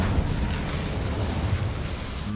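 A fire spell cast in the Hogwarts Legacy video game gives a dense, steady whooshing roar of flame, broadband and sustained for a couple of seconds with no voices over it.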